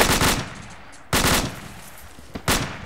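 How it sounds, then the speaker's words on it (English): Heavy automatic gunfire in a military video game comes in three loud, sharp bursts, each starting abruptly and fading, with short quiet gaps between them. "We're taking heavy fire from the north."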